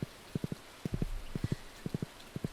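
A horse ridden in Stardew Valley gives clip-clop hoofbeats in quick groups of three, close and crisp, repeating steadily over about two and a half seconds with no voice.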